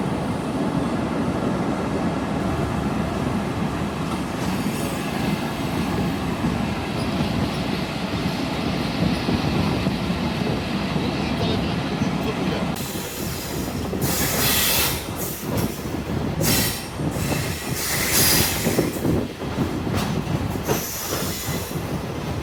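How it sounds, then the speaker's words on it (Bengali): A special passenger train heading to Dhaka runs straight through Gendaria station without stopping. A loud, steady rolling rumble is heard from on board, then squealing wheels and rhythmic clattering bursts break in over the second half. "ঢাকা অভিমুখী গণ অভ্যুত্থান স্পেশাল ট্রেনটি এখন গেন্ডারিয়া থ্রু পাস করে যাচ্ছে।"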